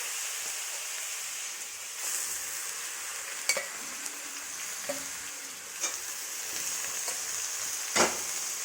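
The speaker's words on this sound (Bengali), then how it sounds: "আতপ চালটা কড়াইয়ে দিয়ে দিচ্ছি।" Uncooked atap rice crackles and sizzles as it fries in a hot wok for basanti pulao, a soft steady hiss punctuated by occasional sharp clinks and stirring scrapes.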